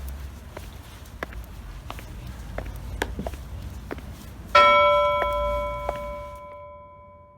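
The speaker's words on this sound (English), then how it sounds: "that bell at the end definitely gave me the chills" A single bell strikes loudly near the end and rings out with a long fading hum, after a stretch of scattered soft taps and creaks in a dark, quiet school building.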